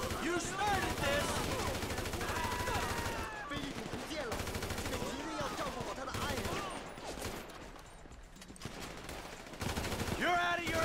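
AK rifle fire in Grand Theft Auto 5 during a firefight, dense and continuous, with bursts of shots layered under shouting and game voices throughout.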